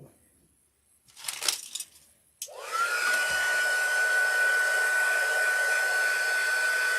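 After some brief rustling and clatter, a hair dryer switches on and blows steadily to dry a freshly painted cabinet insert. Its whine stays loud and continuous to the end.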